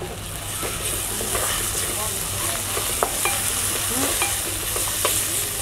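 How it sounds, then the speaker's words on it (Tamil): Ginger and garlic sauté in a pan for a goat boti dish, giving a continuous close sizzle broken by small scraping clicks from stirring. "இஞ்சி பூண்டு போட்டு ஸ்மெல் போகிற அளவுக்கு நல்லா வதக்கி விட்டுருக்கோம்"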